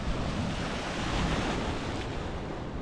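Big ocean waves along the North Luzon coast roll and wash in a steady, fairly close roar mixed with wind buffeting the microphone, with no voices.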